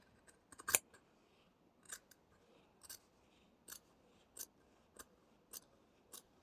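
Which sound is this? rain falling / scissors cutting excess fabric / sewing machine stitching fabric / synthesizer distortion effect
scissors cutting excess fabric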